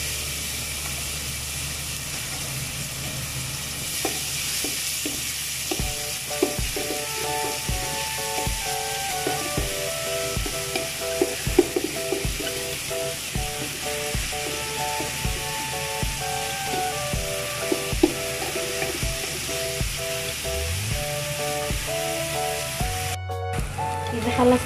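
Onions frying in hot oil for a kulit kambudi with chicken filling, giving a steady sizzle with repeated clicking taps of a utensil against the pan and a continuous background hum.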